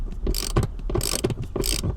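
A ratchet works a 15mm nut off the seat track of a 1997–2004 C5 Corvette, giving quick close-up bursts of clicking in a regular rhythm.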